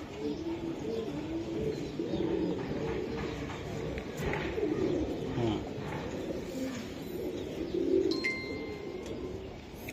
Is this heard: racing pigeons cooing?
yes